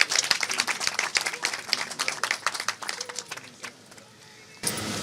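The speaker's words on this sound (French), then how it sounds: "que je vous prie d'applaudir chaleureusement" A crowd at the tenth-anniversary celebration of the ITV press group (Eden TV, Diaspora FM) gives brisk applause with many overlapping claps, fading away after about four seconds before a burst of other noise.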